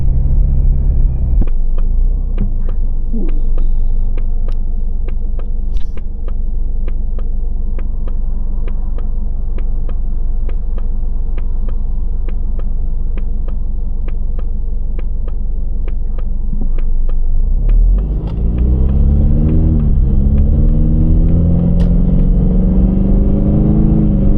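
Ford Mustang engine rumbling steadily while driving, with a jolt near the end as the car rolls over a road bump, followed by a rising rev as it pulls away.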